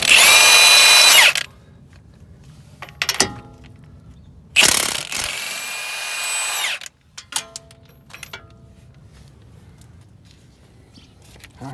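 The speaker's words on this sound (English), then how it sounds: "so now we're going to remove our main strut bolts here." Impact power tool removing 19 mm main strut bolts on a Hyundai Veloster, two loud sustained whirring bursts with ratcheting clicks and clanks of tools and parts between them, close up.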